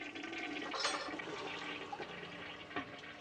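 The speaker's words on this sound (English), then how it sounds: "not only did Hitchcock mean to show a toilet, he meant to flush it" A toilet flushing in the 1960 film Psycho, a single sustained rushing surge of water that swells near the start and drains away over a few seconds, with no talk.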